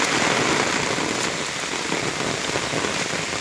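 Heavy rain pours down on the way home from school, a dense, steady hiss of drops hitting surfaces that stays loud and even throughout.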